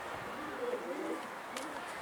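Pigeons coo softly inside a large new coop, a few low murmuring calls close by and fairly faint, with a brief higher chirp near the end.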